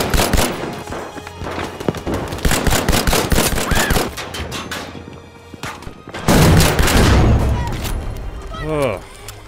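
Rapid bursts of MAS 44 rifle fire and other gunfire crack loudly in a Battlefield 5 firefight, with a heavy boom midway and a voice talking over parts of it.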